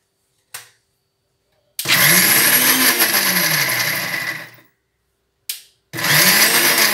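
A kitchen blender grinds gongura chutney, Andhra style, in two loud bursts: a long whirring run of about three seconds with a rising and falling pitch, then a second run starting near the end, each preceded by a brief click.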